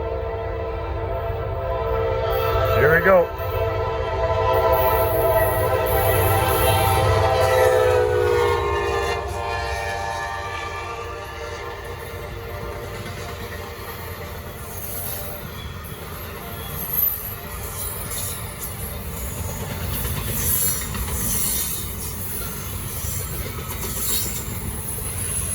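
Norfolk Southern freight train on the Charlotte District rumbling past up close with a long, loud horn blast and steady wheel and rail noise over many seconds; someone briefly speaks near the start.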